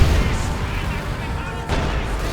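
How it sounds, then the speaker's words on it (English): Incendiary artillery barrage in a World War II strategy video game, a dense continuous rumble of booms and fire with a fresh burst near the end, loud and sustained. "going to get soon swarmed with fire by the incendiary artillery barrage"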